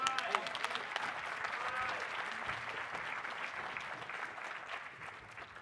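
Applause from a workshop audience for the event-planning panelists: a fairly quiet, continuous wash of clapping, with a voice briefly audible near the start.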